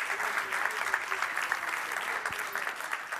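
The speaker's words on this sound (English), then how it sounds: "May we give them a round of applause?" An audience at an Olympic committees' general assembly session in Seoul gives panelists a round of applause, a soft, even patter of clapping heard at a distance and sustained throughout.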